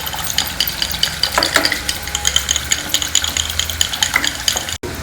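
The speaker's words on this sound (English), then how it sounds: "Mash it very well till it is very soft like this" Soft cooked dal for sambar is mashed in a pot with continuous quick, wet squelching and scraping strokes. The mashing is close and fairly loud, and there is no talk.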